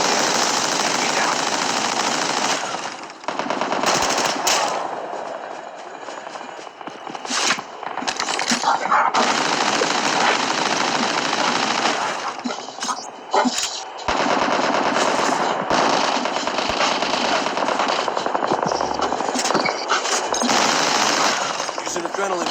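Rapid bursts of automatic machine-gun fire from a Call of Duty Mobile battle royale match, loud and dense, stopping briefly and then resuming, with short gaps between volleys and in-game voice lines underneath.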